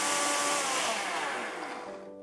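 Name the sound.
blender blending cooked yakiniku sauce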